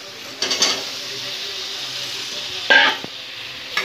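Masala for an arbi fish curry frying in a pan: a steady soft sizzle runs throughout, with a few bursts of scraping as a spoon stirs it and a small clink near the middle.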